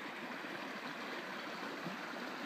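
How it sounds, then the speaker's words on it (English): Runoff water pours steadily off a contour-plowed agricultural field beside a road, producing a continuous close rushing wash like a small stream, unbroken from start to end. "here's all the water flowing off of that"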